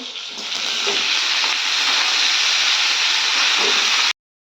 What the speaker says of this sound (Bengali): তো প্রথমে আলুগুলো দিয়ে দিয়েছি, আর আলুগুলো একটু ভেজে নেব